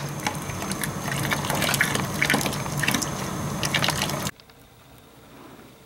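Water being skimmed off the top of a steam heating boiler to remove floating oil, after a heat exchanger failure: a busy wet splashing and trickling for about four seconds, then it cuts off abruptly to a quiet hiss.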